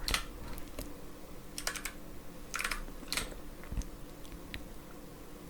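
Close, quiet typing on a computer keyboard in an ASMR roleplay, bursts of crisp key clicks in uneven rhythm with short pauses between runs, no talking.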